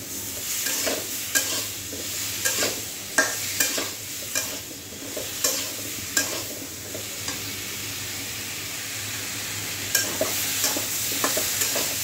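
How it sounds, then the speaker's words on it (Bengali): Ash gourd stir-fried with spices in a pan, a spatula scraping and stirring in repeated strokes over a continuous soft sizzle, close and without talk. "ভালো করে নাড়াচাড়া করে মশলার সাথে কষিয়ে নেব।"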